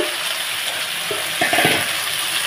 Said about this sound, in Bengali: তো ঢাকাটাকে এখন খুলে নিচ্ছি।